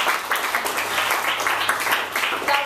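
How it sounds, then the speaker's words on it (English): An audience at a live fiction reading breaks into steady applause, a dense wash of many hands clapping that holds fairly loud and even for a few seconds with no talking. "I just want to give a round of applause for Chelsea"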